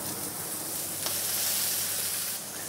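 Two pigeon wings frying in a pan with vegetables, peppercorns and smoked pieces, giving a steady, close, continuous sizzle with no speech.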